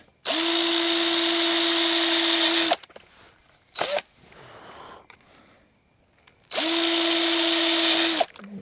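A power drill driving screws while building a mini pole barn whirs loudly for a few seconds, stops, gives a brief burst, then runs steadily again, with quiet handling noise between.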